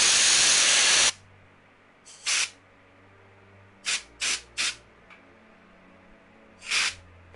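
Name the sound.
aerosol spray can hissing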